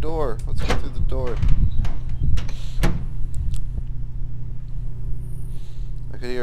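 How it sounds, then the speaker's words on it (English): A door opens in a horror video game, a low rumbling slide mixed with mechanical whirring, with a voice talking over it at the start. "There's a ladder and a door. Let's go through the door."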